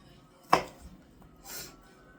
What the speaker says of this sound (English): Chopping off, chopping off all that excess flesh, the little white flesh that be on the bell peppers